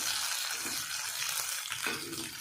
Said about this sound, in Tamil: நல்லா திருப்பி விட்டு வதக்குங்க. நல்லா வதக்கி எடுத்துக்கணும்.